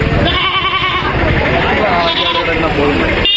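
Goats of the Kodi breed bleat at the Pudhiyamputhur goat market, their cries rising repeatedly over a steady crowd din while people talk nearby.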